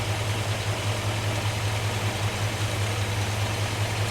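A 1969 Ford F100 truck engine idles on first start in years, a steady low rumbling drone with an even throb that stays constant and alone throughout.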